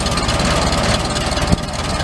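A Ford Model T engine idles with a steady low mechanical drone while being shifted into reverse, and a brief thump sounds near the end; no talking.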